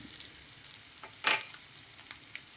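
Mutton spleen frying in oil in a pan, a quiet steady sizzle with faint scattered crackles and one brief louder stir or spatter near the middle, no voices.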